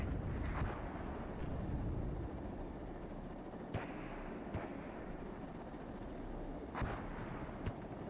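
Mortar rounds landing in the WARNO real-time strategy game, a scatter of sharp distant thumps at irregular intervals over a steady low rumble of battlefield ambience, with no voices.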